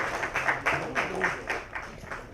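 Audience applause at a movie trailer launch event, a steady wash of many hands clapping at moderate distance, continuous and fairly even for a couple of seconds.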